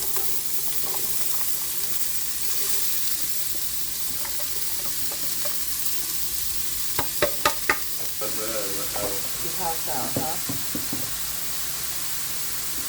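Vegetables saute in hot olive oil in a cast iron skillet, a continuous sizzle broken by stirring scrapes and a few sharp utensil clinks against the pan.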